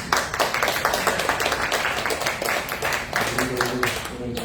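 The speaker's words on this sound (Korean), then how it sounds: "우리 교회 형제에서 함께 박수 쳐주시면 감사합니다." A church congregation at a Korean Sunday service in Davao claps together. The rhythmic clapping is loud, steady and close, and a few voices come in over it near the end.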